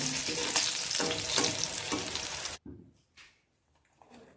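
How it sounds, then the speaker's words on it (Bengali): Bean seeds frying in a pan, a close, dense sizzle with stirring scrapes for about two and a half seconds, then cutting off abruptly to near silence with a few faint clinks. "শিমের বিচিটা একটু ভেজে নিচ্ছি।"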